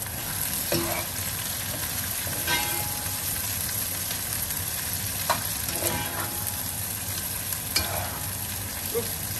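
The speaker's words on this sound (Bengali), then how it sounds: "খুব তাড়াতাড়ি পেঁয়াজ ভাজা হয়ে যাবে" Onions sizzle steadily in a covered pan for mutton curry, with an occasional clink of stirring over the even hiss of frying.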